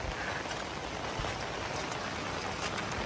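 Rain falls steadily and fairly loudly, with dense pattering on surfaces nearby and no voices.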